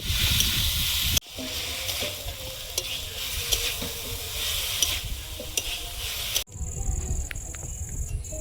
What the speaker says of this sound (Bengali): চিকেনটা ভাজা হয়েছে, ঢেলে নেব।